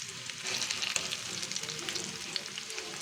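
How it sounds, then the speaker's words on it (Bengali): Tandoori chicken pieces fry in a pan, giving a steady close sizzle with soft crackles and occasional spits throughout, with no voices. "আরেকটু ভেজে নিব"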